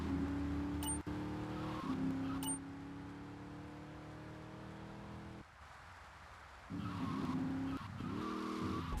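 A car in GTA III skids and spins out after a handbrake pull, with a long engine drone and tire squeal that drops away midway and then returns, steady and game-like with no voices.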